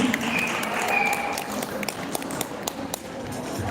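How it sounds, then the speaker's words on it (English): A small audience at a beauty pageant claps in a steady patter of applause, moderately loud, with a few sharper individual claps standing out. "Can you give them a round of applause, please?"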